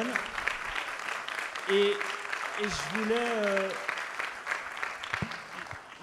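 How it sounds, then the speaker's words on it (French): Steady crowd applause for young people at a civic meeting in Guidel about reducing voter abstention, with a voice briefly speaking over it partway through. "surtout on peut applaudir les jeunes"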